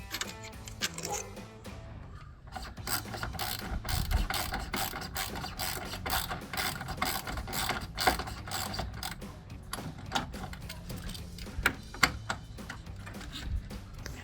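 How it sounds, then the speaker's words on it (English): A hand ratchet clicks rapidly as it removes 10mm bolts from the radiator of a Jeep Wrangler JK, with bursts of fast pawl ticking and occasional metallic knocks and clanks, close up. "We're gonna start with the 10mm bolts first."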